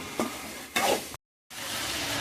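Meat sizzling and frying in a pan with a couple of stirring scrapes, a brief silent gap, then steady sizzle resuming, close up.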